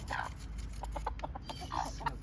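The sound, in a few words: chicken clucking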